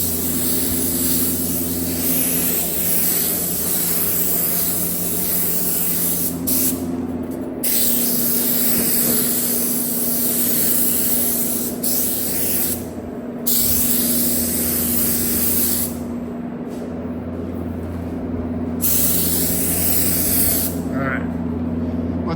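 Black spray paint goes on as a light dusting coat over parts that are already black, part of a flame-style paint job. A steady, close hiss runs in long passes, broken by several short pauses.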